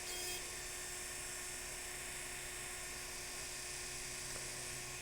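A rotary engraving drill with a burr whines in a steady high-pitched tone while it cuts into a crystal glass tankard, with the motor hum continuing unbroken and no talk.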